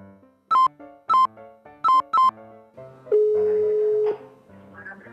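Telephone keypad tones sound four times in quick pairs, followed by a steady tone of about a second, then a faint muffled ringback as a call is placed.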